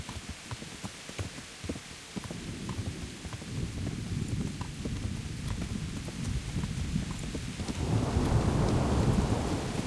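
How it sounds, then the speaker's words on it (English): Thunderstorm in the medieval video game Kingdom Come Deliverance: steady rain and rolling thunder that swells louder toward the end, with a horse's clip-clop hooves mixed in. "Jeez, big old storm happening in this game."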